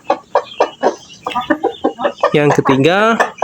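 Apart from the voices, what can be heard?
hen clucking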